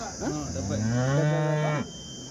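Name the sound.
cow calf mooing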